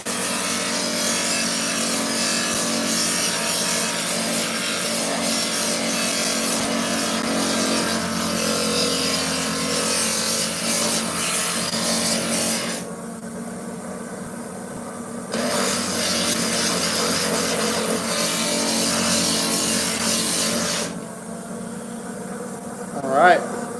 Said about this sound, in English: my polisher is so much quieter now that it stays inside in the nice and warm